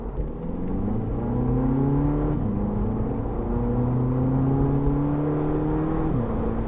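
A Volkswagen Polo GTI with a 6-speed DSG gearbox accelerates steadily, its engine note climbing smoothly through the revs with a brief dip at a gearshift and another near the end, heard from inside over constant road noise.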